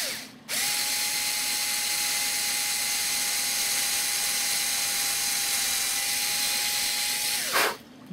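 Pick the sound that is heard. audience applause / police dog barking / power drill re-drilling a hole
power drill re-drilling a hole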